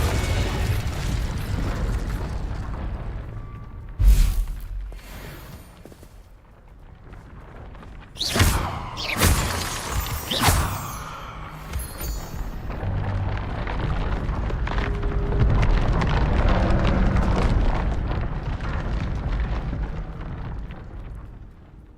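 Spell explosions from the video game Hogwarts Legacy: a sharp blast near four seconds, then a cluster of three loud bursts between eight and eleven seconds, over a steady game soundscape of rumbling ambience and low effects.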